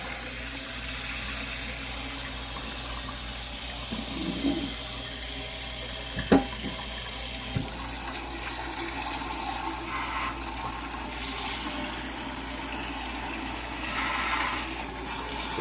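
Water pours and sloshes out of a Honeywell humidifier reservoir in a continuous close gush, broken by a few sharp knocks of the plastic tank partway through.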